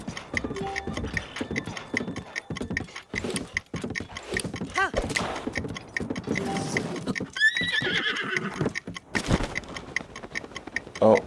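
Horse in Zelda: Breath of the Wild clip-clopping with neighs and whinnies amid game effects, clicks and chimes, fairly quiet, with a little talk over it.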